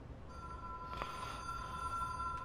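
A telephone rings in the video game Control, a steady electronic bell tone sounding fairly quietly over a low ambient hum across a short stretch.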